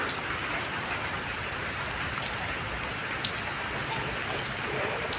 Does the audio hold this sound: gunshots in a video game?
no